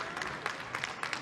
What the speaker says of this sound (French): Vous pouvez les applaudir tous les 5.